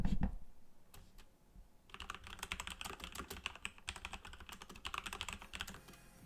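Rapid clacking keystrokes on a Corsair K95 mechanical keyboard with Cherry MX Speed Silver switches, starting sparse then settling into a steady, busy typing rhythm, close up and alone.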